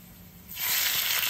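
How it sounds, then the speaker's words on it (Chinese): Marinated beef slid into a hot wok with oil and garlic slices bursts into loud, steady sizzling that rises suddenly from quiet and keeps hissing close up. "热锅倒入适量食油， 倒入蒜片爆香，倒入腌制好的牛肉"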